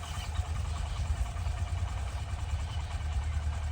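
A bike engine runs steadily in a village setting, a continuous low rumble with slight fluctuations, close and fairly loud, with no clear talk over it.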